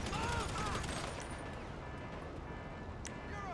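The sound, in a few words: gunfire in video game GTA Online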